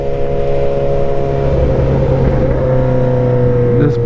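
A Suzuki GSX-S 750 naked motorcycle idles and revs loudly up close during tuning, a steady harsh engine drone with a brief pitch shift near the end.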